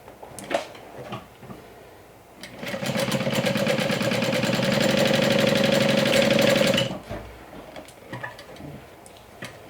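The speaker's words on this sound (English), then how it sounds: "You're going to want to stitch along the long edge, right sides together." A sewing machine stitches the long edge of a 4x3 vinyl piece, right sides together. It runs as one steady, close, fast whir for about four seconds, with quiet handling clicks before and after.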